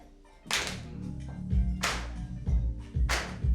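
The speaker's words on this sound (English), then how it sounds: "Come on, y'all, clap it up" A crowd at a music show claps along to a feel-good song, with three sharp, loud claps spaced about a second and a half apart over a thumping beat.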